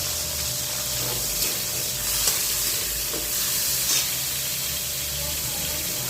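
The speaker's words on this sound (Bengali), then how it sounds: "তেল গরম হয়ে গেছে, এবার আমরা এর মধ্যে দিয়ে দিচ্ছি কেটে রাখা করলাটা" Sliced bitter gourd (karela) frying in hot oil in a pan, a steady broad sizzle with a low rumble underneath and a few brief stirring clinks, continuous throughout.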